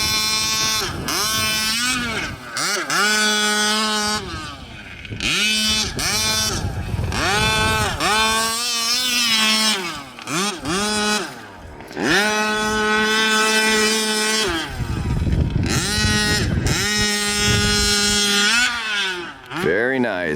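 A gas-powered 1/5 scale custom Losi 5T 4x4 RC car laps a dirt track, its two-stroke engine whining up and down in pitch through repeated accelerations and throttle lifts, with people talking over it.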